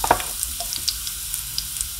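Chopped garlic fries in a pan with a steady, close sizzle and a few light crackles and pops, alone and without talk.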